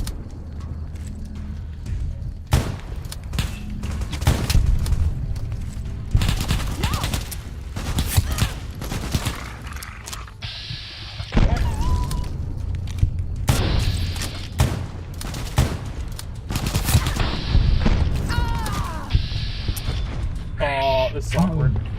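Rapid bursts of gunfire from Fallout: New Vegas, many sharp broadband shots fired in quick succession with mechanical clatter between them, loud and close, running on and off throughout, with a voice talking over parts of the clip.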